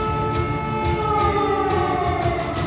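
Air raid sirens wail across war-damaged Kharkiv, a sustained, steady mechanical tone with layered harmonics that holds at a moderate level from a distance and carries no voices.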